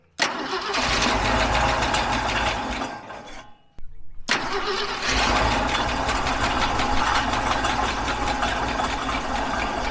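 A Ford F-100 truck engine cranks briefly, cuts out for a moment, then catches and settles into a loud, steady rumbling idle.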